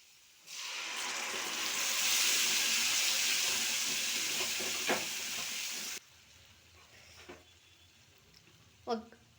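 Pigeon pea curry is poured into a pan of fried dried red chillies and curry leaves, bursting into a loud, close sizzle that hisses steadily for several seconds, then cuts to quieter clinks and a voice speaking.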